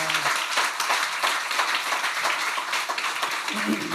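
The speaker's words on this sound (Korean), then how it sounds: "우리 큰 박수로 환영하시죠." A church congregation at a revival service claps to welcome the pastor: dense, steady applause that fills the room for the whole moment, with a voice briefly audible near the end.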